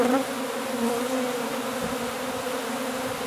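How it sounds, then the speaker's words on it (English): A dense swarm of bees buzzing inside a gas tank in a steady, close drone that holds without a break throughout. "they're also not sure how long the bees have been in here"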